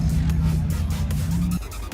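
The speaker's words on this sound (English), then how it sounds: "So what pulls up really quick is this purple McLaren." A purple McLaren pulls up at a car show, its engine rumbling low and steady up close for a couple of seconds before the note drops off.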